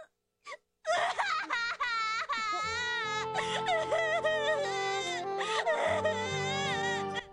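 Chi-Chi from the Dragon Ball Z anime cries with joy, a loud, wavering wail with sobbing breaks and gasps, close and sustained over music.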